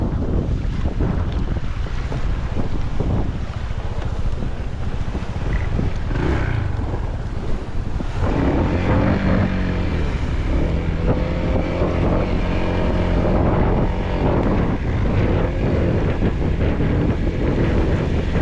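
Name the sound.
boat motor running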